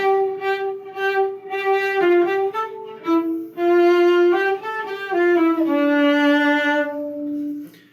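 A cello plays measures 17 to 20 of La Cinquantaine from Suzuki Cello Book 3, a steady melodic phrase of sustained bowed notes with smooth shifts, played alone and close.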